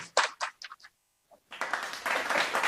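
Audience at a DXN Freedom Day talk in India clapping, first a few scattered separate claps, then a brief hush, then fuller continuous applause swelling and holding to the end.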